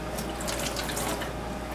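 Tap water runs steadily into a sink while hands are dipped and swished in it, rinsing off after handling ground venison for jerky; a close, continuous splashing flow with no talking.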